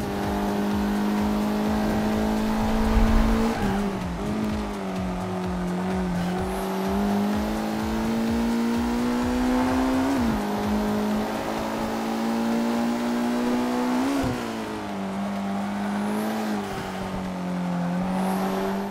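A race car engine in the video game Forza 5 revving hard through the gears, its steady tone climbing and dropping with each shift and corner, loud and continuous with occasional tire squeal.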